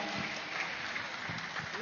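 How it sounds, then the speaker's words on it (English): A meditation summit audience applauds the event team with a continuous patter of many hands, heard from a distance at moderate level, with a few voices mixed in. "So let's give a big round of applause to them."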